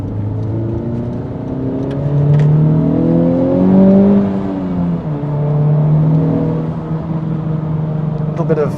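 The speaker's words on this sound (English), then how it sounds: "Bit of turbo whistle there" A 2021 Honda Civic Type R accelerating, engine note rising and falling through the revs with a faint turbo whistle over it, heard from inside the cabin with some talk.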